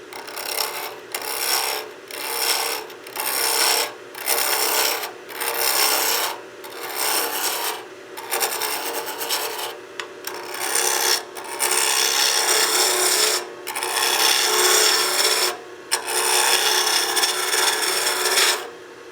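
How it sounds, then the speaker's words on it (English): Wood lathe spinning at just over 2,000 RPM while a spindle roughing gouge cuts the blank, giving a loud continuous rasping scrape broken by short regular pauses as the tool is repositioned. "Use our spindle rough and gouge to start getting the profile we want."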